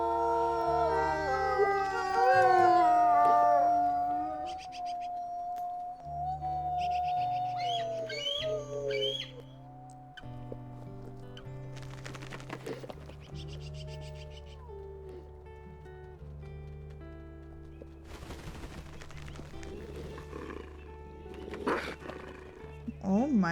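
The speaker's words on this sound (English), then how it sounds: "Getting some growling happening at the carcass over here" Wolves in a video game growl and howl over a cow carcass, with layered rising and falling howls and snarls. Steady game sounds run underneath, and a person talks over part of it.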